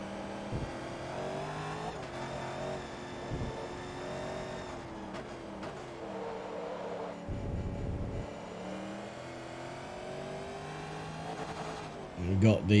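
1967 Corvette Stingray in the Forza Motorsport 2 video game, its engine droning and revving steadily with shifting pitch, and a few louder bursts near the end.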